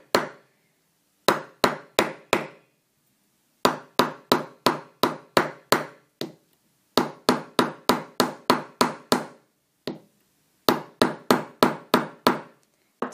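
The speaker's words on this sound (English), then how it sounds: "I've just got a little anvil here and a little hammer" A small hammer strikes a metal bar on a little anvil in sharp, ringing bursts of rapid taps, grouped in runs of four to eight blows with short pauses between, loud and close with no talk.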